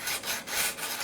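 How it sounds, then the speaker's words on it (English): A sanding stick rubs back and forth over small wood pieces of a 1/35 scale summer house model, making soft, rhythmic rasping strokes, close and alone. "Then I'll come back with a sanding stick and sand everything down smooth,"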